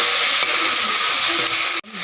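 Jackfruit frying with salt in a pan gives a steady, loud sizzle and hiss with faint stirring scrapes, cut off abruptly near the end before resuming more quietly.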